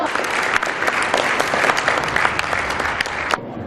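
A crowd applauds steadily and densely for a knife-throwing rider at a horseback show in Hungary, then fades out near the end.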